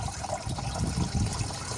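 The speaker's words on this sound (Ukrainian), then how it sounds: "Ось тепер залью я водою. 9-10 літрів десь води." Water, about 9 to 10 litres, pouring into a garden tank or container for spraying roses, a steady gushing splash at moderate loudness.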